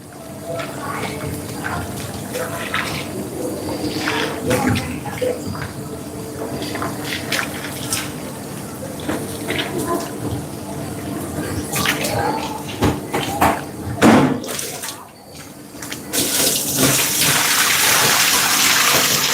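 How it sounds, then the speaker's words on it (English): Tap water runs and splashes while a large batch of sweet potatoes is washed in a working kitchen, a continuous rushing stream with knocks and clatters, growing louder and hissier toward the end. "We're washing our army of sweet potatoes."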